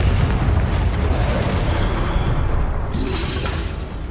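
Confringo explosive spell cast in the Hogwarts Legacy video game, heard as a dense, loud booming blast with rumbling low end and crackle, continuous through the short stretch with no speech.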